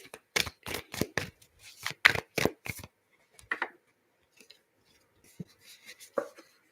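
Tarot cards being pulled from a deck, with a rapid run of crisp card shuffles and snaps up front, then a few scattered, quieter card flicks and slides in otherwise quiet surroundings.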